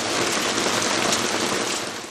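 Steady, dense rainfall pours down continuously, a broad hiss of drops on surfaces during a rainy, foggy day in a Turkish town, with no voices heard before the sound tapers off at the end.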